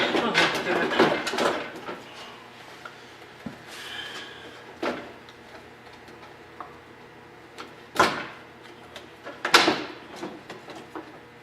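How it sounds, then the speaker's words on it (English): A headlight is worked free from the front bumper of a 2013 Chevy Cruze during a collision-repair teardown, with scattered plastic clicks, knocks and creaks, a few sharper snaps near the end, and some talk in between. "The headlight's going to come out on its own."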